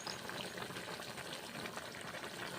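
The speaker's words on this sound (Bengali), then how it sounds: "জল দিলাম" Water poured into a pot of bottle gourd and red lentil dal on the stove, a steady close splashing and bubbling rush with no voices.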